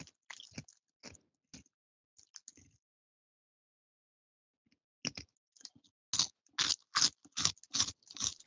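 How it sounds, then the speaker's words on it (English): Someone crunching food right into a microphone over voice chat during a Six Days in Fallujah gaming session: close, sharp bites, sparse at first, then a fast run of loud crunches toward the end, with no talking. "Can you stop crunching into the mic?"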